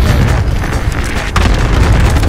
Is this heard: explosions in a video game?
yes